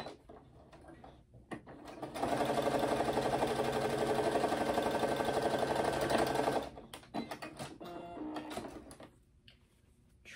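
A sewing machine stitches through a thick, interfaced fabric pouch, running in one steady, close burst of several seconds, with quieter handling and clicks before and after.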